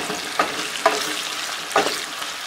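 Onions fry in a pot with a loud, steady sizzle, broken by three distinct stirring scrapes spaced about half a second to a second apart.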